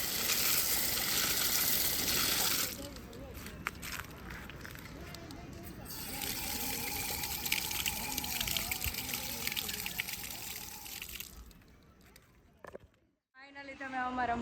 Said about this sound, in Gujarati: પછી અહીંયા મસ્ત પાણી આવે છે તો અમે હાથ પગ ધોઈ નાખ્યા છે